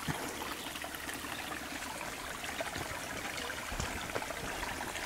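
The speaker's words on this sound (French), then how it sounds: "Et ici on a un petit peu élargi le petit ruisseau." A small mountain stream flows steadily nearby, its constant trickling and gurgling water filling the air with no voices.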